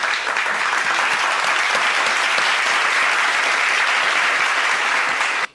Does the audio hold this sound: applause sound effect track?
yes